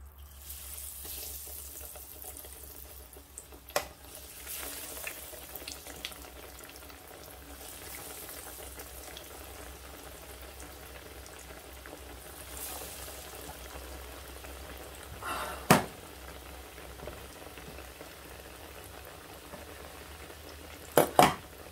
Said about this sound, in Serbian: idu napolje, idu u tiganj.